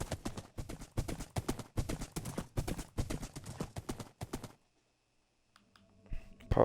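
Horse hooves clip-clop in a quick, steady galloping rhythm as a horse is ridden in Minecraft, then stop abruptly, leaving near silence before faint clicks and a rising noise at the end.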